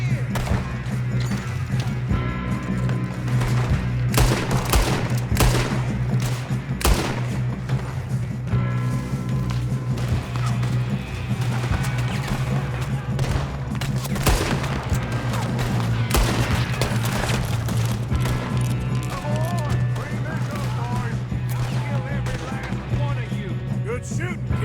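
Shootout gunfire from Red Dead Redemption 2: rapid, dense bursts of shots and booming reports over a continuous background drone, with voices calling out amid the firing.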